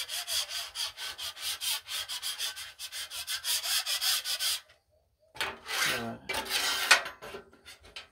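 Metal scraper from Harbor Freight rasping across a flat steel Blackstone griddle, a rapid run of close, loud rubbing strokes for about four seconds, a brief pause, then another burst of scraping.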